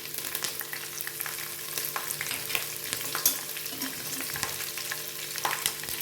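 Garlic, green chillies and curry leaves sautéing in hot oil, a steady close crackling sizzle with frequent stirring scrapes throughout and no voices.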